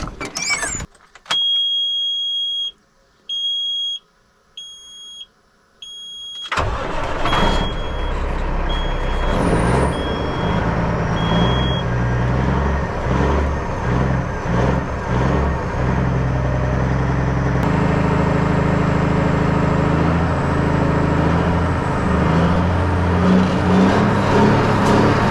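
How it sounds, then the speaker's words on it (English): Caterpillar C15 diesel truck engine cranking over after an oil change, catching and then revving hard and loud as the pedal is held down. A steady roaring drone continues, preceded by short electronic beeps. "get back in the truck, crank it up, pedal to the metal, hold the pedal down"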